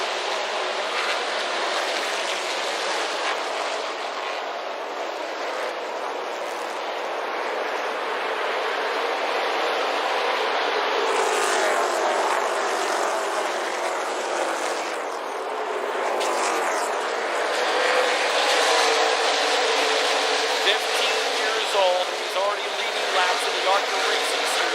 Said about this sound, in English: We are going green flag racing on MAV TV with the ARCA Racing Series